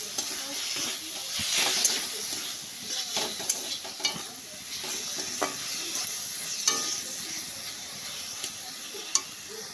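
Green chillies sizzle and crackle in a hot pan with turmeric and salt for spicy tomato, stirred with sharp scraping clicks over a steady close frying hiss, no voices.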